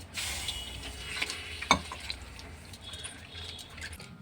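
A bhakri flatbread on a hot griddle, sprinkled with water, gives a faint, soft sizzling hiss with a brief sharp clink partway through, heard close up and alone without speech.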